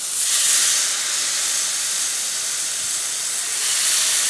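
Smallmouth bass fillets sizzle over an open fire, a steady, bright, hissing crackle that holds evenly and close throughout with no pauses.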